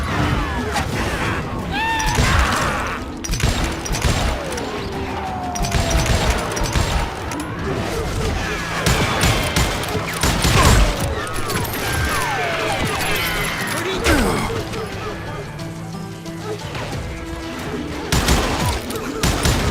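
Gunfire crackles in the Western shooter game Call of Juarez: Gunslinger, with repeated sharp shots and bursts spread throughout, mixed with impacts, background score and occasional shouted voices.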